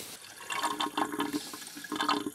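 Fuel being poured from a can into an MEP-831A Army generator's tank, a close, gurgling liquid splash in uneven glugs with a short pause before the flow resumes.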